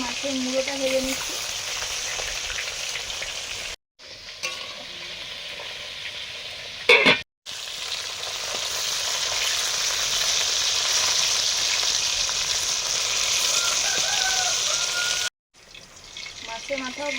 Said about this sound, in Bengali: এবারে মাছের মুড়োটা ভেজে নিচ্ছি